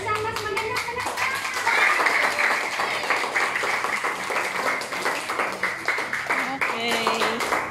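Children clap together at an eight-year-old's birthday party, a dense patter of small hands that keeps going steadily while an adult voice and children's chatter carry on over it.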